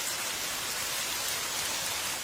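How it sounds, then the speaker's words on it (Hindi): Steady rain falls without a break, a dense, even hiss of drops spread across the whole stretch at moderate loudness, with no voices or thunder. "ये बारिश हमें बुलावे का संकेत दे रही है।"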